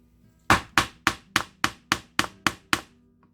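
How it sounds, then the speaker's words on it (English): Nine sharp, evenly spaced hammer strikes drive a metal punch through leather, each a crisp close knock with a quick decay, in a quiet room with no talking. "hammer it through"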